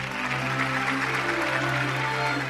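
A studio audience watching a married-couple question-and-answer segment breaks into steady, sustained applause, a dense even wash of clapping heard close and loud, with a low constant hum beneath.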